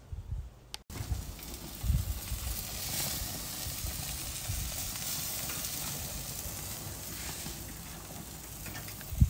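Lamb cooking liquid boils in a pot with a steady bubbling, hissing simmer. The sound is close and even, starts just after a brief knock, has a few louder bubbles, and no one talks.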